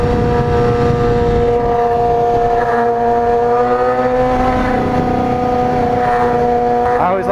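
A motorcycle engine held at high revs through its exhaust pipe while riding, a loud steady droning roar that fills the whole stretch with little change in pitch.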